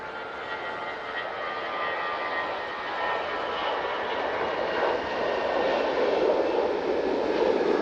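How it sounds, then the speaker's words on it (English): KLM airliner descending to land at Manchester Airport, a steady broadband engine roar that slowly swells louder over several seconds, heard from a distance without talk. "we've got the KLM coming down towards us"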